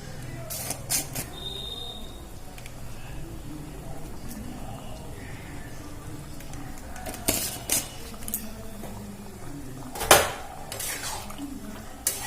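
A spoon stirs potato and papaya curry in a metal pot, making scattered close clinks and scrapes over a quiet bed of low kitchen noise.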